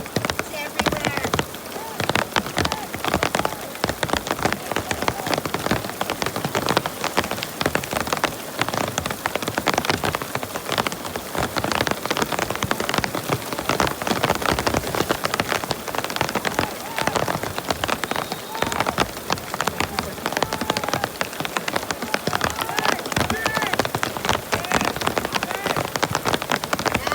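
Heavy rain pours steadily through an outdoor youth football match, a dense, constant hiss of drops drumming on surfaces, with voices calling out now and then beneath the downpour.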